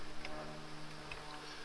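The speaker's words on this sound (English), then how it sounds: "Pull this guy up, and it's going to bring a lot more bees around here." Honeybees buzz around an opened beehive during a hive split, a close, steady droning hum with no voices.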